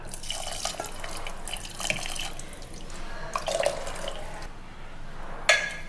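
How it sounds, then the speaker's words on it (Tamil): Water is poured into a simmering pot of bottle gourd curry, splashing and trickling in uneven bursts, with a brief clink near the end. "இந்த தண்ணியை ஊற்றிடலாம்."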